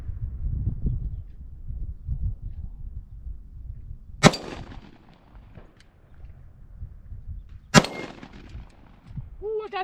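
Two sharp Sig Sauer P320 X-TEN pistol shots ring out several seconds apart at an outdoor range, each a loud crack, with low handling noise and rustle between them.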